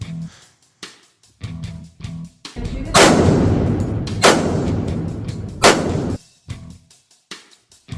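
Three loud gunshots from a WWII-era 1911 A1 pistol fired on a range, each a sharp crack with a long rolling echo, spaced about a second and a half apart, with quieter shuffling and handling sounds before and after.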